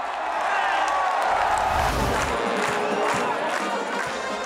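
Spectators at an equestrian joust erupt in wild cheering and shouting after a rider spears the ring, a loud, dense crowd roar that holds steady for several seconds.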